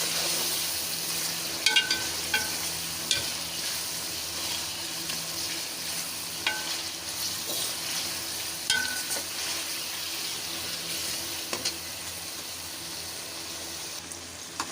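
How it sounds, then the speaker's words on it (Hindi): Salted chicken frying in a pan hisses with a steady, dense sizzle, broken by occasional small sharp clicks and pops from the food and utensil. "इसको अच्छे तरीके से फ्राई कर लेंगे"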